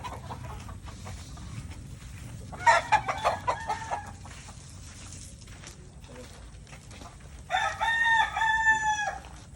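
Chickens cluck and a rooster crows in short bursts over a steady outdoor background at a gamefarm, with people talking nearby.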